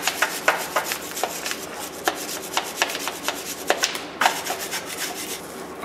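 A steel wire brush scrubs loose dirt off a Porsche engine surface near the oil pan, with rhythmic rasping strokes repeated steadily, close and bright, no talking.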